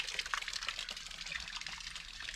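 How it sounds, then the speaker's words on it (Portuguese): Water pours and splashes steadily as it fills a large new pond dug for raising tilapia and Malaysian prawns, a continuous nearby gushing trickle with no voices. "já estamos colocando água aí, o negócio tá ficando bacana"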